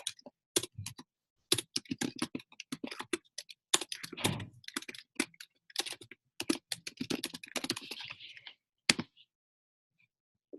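Typing on a computer keyboard to enter a buyer email, quick irregular bursts of close clicking keystrokes with brief pauses, fairly quiet, with no talking.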